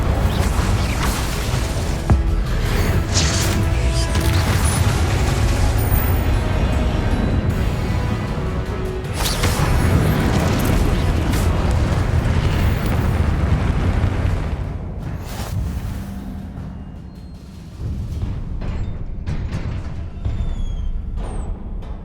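Spell explosions in the game Hogwarts Legacy come as repeated loud bursts and booms over a dense rumbling battle din, easing briefly near the end before surging again.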